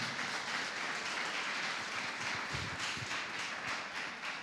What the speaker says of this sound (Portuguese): dê um forte aplauso para o Senhor Jesus nesta manhã